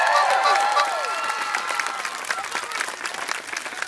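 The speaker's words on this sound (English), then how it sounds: "So go and give yourselves a massive round of applause" A festival crowd at a FlameOz fire show in Halifax applauds in a dense, steady wash of clapping. Whoops and cheers rise over the clapping at the start, and the sound fades slightly as it goes on.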